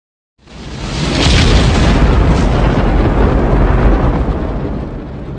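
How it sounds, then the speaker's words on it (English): A rocket launch erupts suddenly into a loud, sustained roaring rumble, deep and powerful, continuing steadily for several seconds with no voices. "Rocket."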